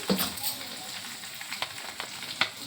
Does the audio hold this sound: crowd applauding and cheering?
no